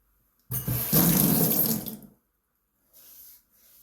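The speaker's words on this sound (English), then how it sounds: "Put some water to the brush." Tap water runs onto a shaving brush at a sink, a loud close splashing burst of about a second and a half, then silence and a couple of brief softer trickles.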